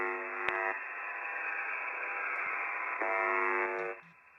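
A long-running Russian buzzer station received on HF radio: a steady harsh buzz over band noise, broken by brief clicks and a short gap, then a pair of faint beeps as it cuts off near the end.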